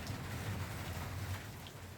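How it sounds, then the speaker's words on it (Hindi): Heavy rain falls steadily, a dense, continuous hiss of drops with no break and no voices. "बारिश तो रुकने का नाम नहीं ले रही है"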